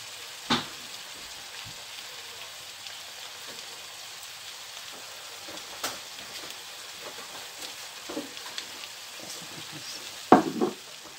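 Chicken fajita sizzles in a pan with oyster sauce, a steady close crackle of frying with occasional clacks of stirring and scraping.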